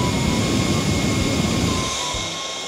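A triple turbo portable fan runs close by with a loud, steady rushing whoosh and a faint high whine, the airflow easing off slightly toward the end, with no talking.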